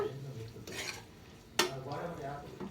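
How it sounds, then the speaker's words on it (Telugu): A spoon stirs chili powder into gongura pulihora in a pan, making a few close scraping strokes against the metal over a faint sizzle. "కారం వేసి కలబెట్టిన తర్వాత"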